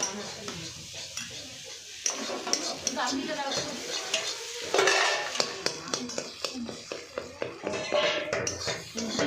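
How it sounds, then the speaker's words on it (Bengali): Halved eggs sizzle in a pan close by while a utensil repeatedly clinks and scrapes against the metal in an uneven rhythm. "ভাজা হচ্ছে ডিম দেখতেই পারছো তোমরা এখানে ডিম ভাজছি আমি"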